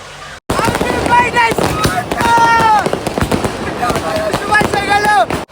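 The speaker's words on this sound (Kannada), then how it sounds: "ಸೊ ಪಟಾಕಿ ಹಚ್ಚಿಲ್ಲ ಅಂದರೆ ಹೆಂಗೆ?" Firecrackers burst in a dense, continuous crackle of sharp pops and bangs at a birthday celebration, with people talking over the racket throughout.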